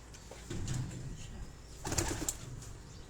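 Kamgar breeder pigeons in a loft give two low, soft cooing calls, each a brief throaty burble about a second apart, fairly close and quiet, with no talking.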